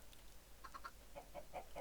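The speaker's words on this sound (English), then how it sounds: "we've got a bunch of chickens in here now" Faint game chickens in a Minecraft-style modpack give a few short, soft clucks in quick succession, with a second, louder group of clucks following, over a low background hum.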